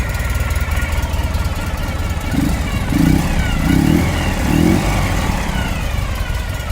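A 2013 Ural Gear Up sidecar motorcycle engine runs at a close, steady, chugging idle, with a few low pulsing surges as it settles after a kick start.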